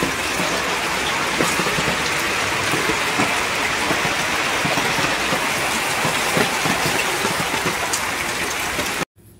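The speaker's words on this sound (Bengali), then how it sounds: "সেই সকাল থেকে তো বৃষ্টি শুরু হয়েছে, আর এখনও পর্যন্ত অনবরত বৃষ্টি হয়েই যাচ্ছে" A steady downpour of heavy rain drums on surfaces with an even, dense roar that barely changes, close and loud, then cuts off abruptly.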